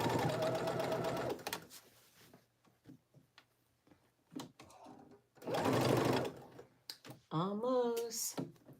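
A sewing machine stitches in the ditch on a jacket, running in two loud bursts of steady whirring separated by quieter pauses with small clicks and fabric handling, followed by a short high whine near the end.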